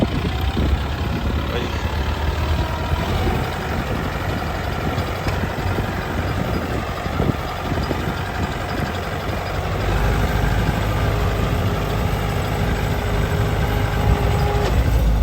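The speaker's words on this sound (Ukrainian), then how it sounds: "на першій передачі, на другій передачі через деякий час вибиває передачу" A Scout T 504 S tractor engine runs steadily at close range in gear, a low rumbling drone with a slight shift in tone partway through as the gear pops out.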